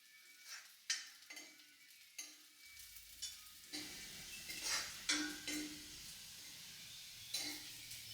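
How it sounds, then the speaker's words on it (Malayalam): Small onions sizzle and sauté in coconut oil in a pan, with a steady frying hiss and occasional scrapes and clinks of stirring, close and moderately quiet. "ഇനി നമ്മൾ വെളിച്ചെണ്ണയിൽ ചെറിയ ഉള്ളി അത് വഴറ്റിയിടാണ്."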